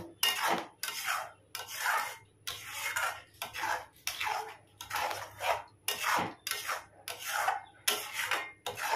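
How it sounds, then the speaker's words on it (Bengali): Chhana and ripe mango sweet mixture being stirred continuously in a pan, giving a steady run of rhythmic rasping scrapes, about one per second, close and fairly loud with no talking. "কন্টিনিউ আমি নাড়তে থাকবো। শুকিয়ে একটি ড্র তৈরি করব।"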